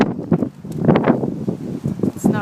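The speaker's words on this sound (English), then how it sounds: "It is ridiculously windy out today." Strong wind blows across an outdoor microphone on a very windy day, a steady gusty rumble with rustling, while a voice talks over it.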